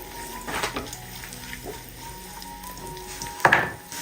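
Cashews and raisins fry in ghee in a pan, a steady low sizzle running throughout with a few louder bubbling bursts, the sharpest near the end.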